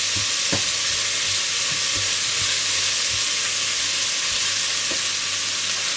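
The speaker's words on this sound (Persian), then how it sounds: "خب ما باید یه مقدار این سیر و باقالی رو حسابی تفت بدیم" Garlic and fava beans sautéing in a pan, a loud steady sizzle and hiss up close with occasional soft scraping taps of stirring.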